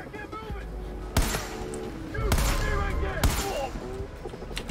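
Three loud, sharp shotgun blasts from Far Cry 5 ring out about a second apart, each with a booming tail, over a steady game backdrop and a voice talking throughout.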